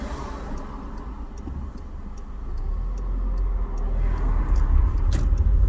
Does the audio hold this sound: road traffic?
yes